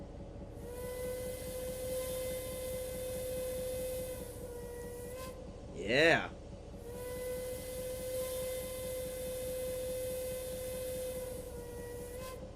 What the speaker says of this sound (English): All right, let's blow the whistle.